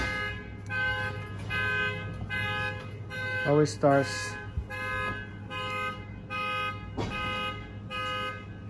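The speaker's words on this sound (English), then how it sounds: "here's the alarm of the annoying car" A neighbour's car alarm blares in a steady chain of pulsing electronic tones, fairly loud and close, while a person speaks briefly over it partway through.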